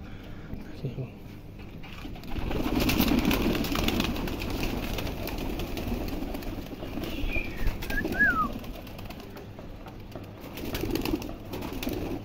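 A flock of loft pigeons, just released, coos in a steady low murmur, with scattered calls, wing flutters and a voice speaking intermittently nearby.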